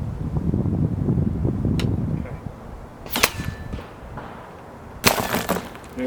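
A Turkish PCP airgun fires swaged slugs outdoors in wind, with two sharp, loud cracks a couple of seconds apart standing out over a breezy background.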